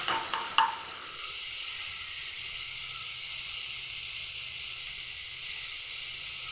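Spice paste with turmeric frying in a pan, a steady broadband sizzle after a few brief clatters at the start, close and continuous with no talk.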